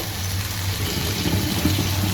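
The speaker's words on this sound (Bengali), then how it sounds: "আমি কিন্তু গরম পানি তারপরে পানি দিয়ে দিব" Hot water is poured into a pot of rice, making a steady close-up rushing splash that continues unbroken and is heard alone.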